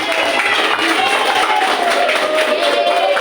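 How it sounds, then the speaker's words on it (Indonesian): A classroom of students applauds a student group after its reading, a dense, loud patter of many hands clapping together without pause. "Tepuk tangan dulu untuk kelompok."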